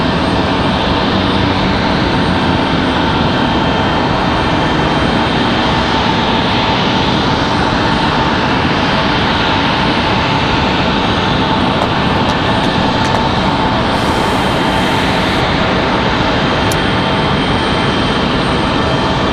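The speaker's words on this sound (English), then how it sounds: "That Delta departure. That is Delta 1409. That's headed to Salt Lake City." Delta jet airliner departing Raleigh-Durham International for Salt Lake City, a loud close continuous engine roar with a broad rushing rumble that stays powerful and unbroken for the whole stretch, no talking.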